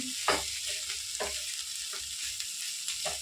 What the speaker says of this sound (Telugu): ఇట్లా రెండు నిమిషాలు ఫ్రై చేసుకుని సరిపోతుందండి